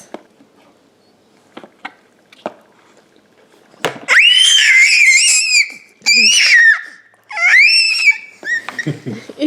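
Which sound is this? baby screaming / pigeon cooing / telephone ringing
baby screaming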